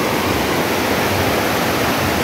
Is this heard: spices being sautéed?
no